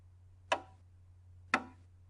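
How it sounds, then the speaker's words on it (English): A steady, unchanging musical beat made of two crisp, evenly spaced clicks about a second apart over a low hum, isolated and unaccompanied. "The beat of a piece of music is, by itself, kind of boring."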